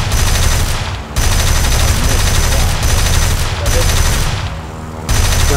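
LaGG-3 aircraft cannons fire in War Thunder, loud rapid bursts of automatic fire in long sustained strings broken by short pauses, heard up close over engine drone.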